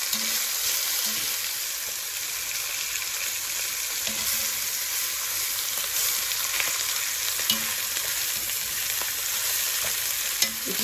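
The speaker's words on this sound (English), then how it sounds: "I'm going to sear it on both sides." Lamb neck bones searing in a hot pan give a loud, continuous sizzle with a few faint scrapes and taps of utensils, close by and without speech.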